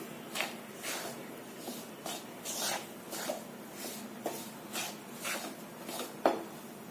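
Ragi mixture is stirred and roasted in a pan, making about a dozen soft scraping strokes in an uneven rhythm, fairly faint and close, with no talking.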